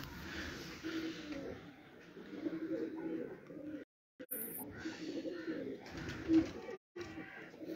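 Pigeons on a rooftop cooing in soft repeated low calls, with people talking over them and brief dropouts in the sound.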